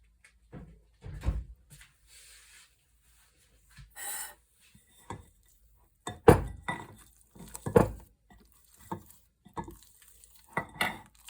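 Oil being mixed into sourdough bread dough by hand or spoon in a kitchen, with scattered soft stirring, rubbing and occasional clinks of a bowl, quiet and irregular with gaps between bursts.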